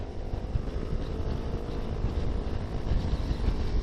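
A Honda Vario scooter engine fitted with a TK Racing coil and open looper runs at a steady, close drone with a rough low rumble throughout, without talk.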